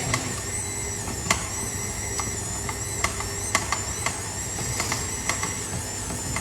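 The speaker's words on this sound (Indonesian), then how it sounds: "ini kita mixer itu udah speed 2 itu kurang lebih selama 5 menit ya" A stand mixer kneads bread dough at speed 2, keeping up a steady mechanical whir with a faint high whine. Sharp intermittent clicks and knocks sound at irregular intervals, and nobody speaks over it.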